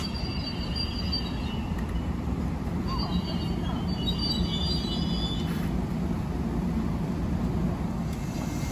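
An LIRR commuter train, number 1256, rumbles steadily through Mineola station during the evening rush, with a continuous low drone of rolling stock and faint high squeals from the wheels and brakes.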